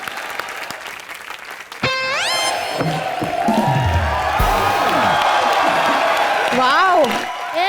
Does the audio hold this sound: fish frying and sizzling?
no